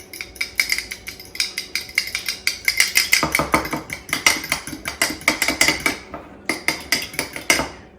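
Eggs being whisked in a bowl for a simple breakfast, a fast, steady run of close clinking strokes that continues for several seconds with a brief pause near the end, with no voices.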